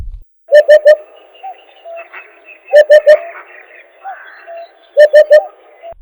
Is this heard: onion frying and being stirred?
no